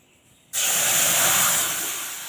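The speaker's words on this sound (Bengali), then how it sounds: "দুধটা দিয়ে ভালোভাবে এটা নাড়িয়ে নেব" Milk hits hot fried semolina in a pan for modak with a sudden loud hiss and sizzle that stays strong and steady, easing off slightly toward the end after a short quiet start.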